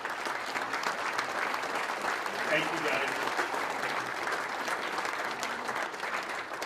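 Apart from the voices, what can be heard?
applause for athletic directors and administration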